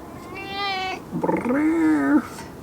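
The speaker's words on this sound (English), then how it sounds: "it's a cat" A cat in a city street lets out two distinct meows, the first higher and steady, the second longer and more drawn out, close and clear.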